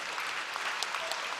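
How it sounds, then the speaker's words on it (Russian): Hall audience applauding contestants at an interregional music festival in Yaroslavl, a steady dense patter of many hands clapping at moderate volume, heard alone throughout. "аплодисменты зала для вас"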